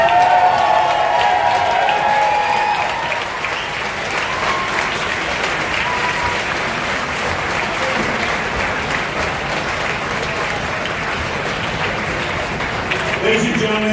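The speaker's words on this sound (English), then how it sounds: "round of applause." An audience at a formal ship commissioning dinner in New York City claps in sustained, dense applause that fills the room, steady and fairly loud with a few scattered cheers.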